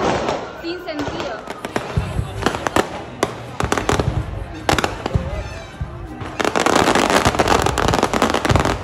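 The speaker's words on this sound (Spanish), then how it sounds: "realmente es muy peligroso cómo vuelan esos morteros, esos fuegos artificiales" Fireworks and mortar shells exploding during a celebration in Cuba, a rapid barrage of loud cracks and booms, some close and sharp, building to a dense volley near the end, with people talking in between.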